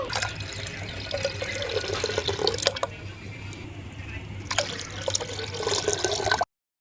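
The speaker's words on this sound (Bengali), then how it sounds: "এবারে এই ঘরটার মাপেই 4 বার জল দেব" Water poured from a small clay cup into yogurt in a pot for lassi, a steady close trickling splash in several pours with a brief pause between them, no talk.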